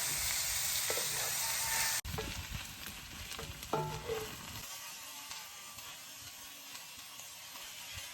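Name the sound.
chorizo frying in its own oil outdoors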